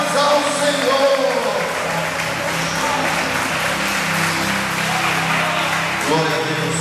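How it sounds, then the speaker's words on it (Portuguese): Applause from a church congregation, dense and steady for several seconds, mixed with voices and some tonal sound under the clapping. "dê uma salva de palmas ao Senhor."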